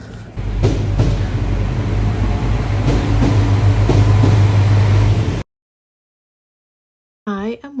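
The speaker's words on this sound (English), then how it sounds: "I am going on a train" A steady rumbling ride inside a train travelling to Dublin, with occasional clicks and rattles. It cuts to silence before a voice briefly begins.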